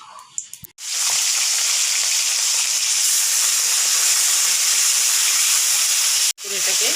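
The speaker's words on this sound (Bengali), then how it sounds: "এটাকে ভেজে নেব" Chapila fish sizzling in hot oil in a wok, a loud steady hiss of frying that starts abruptly after a brief pause and holds for several seconds before a short break and resuming.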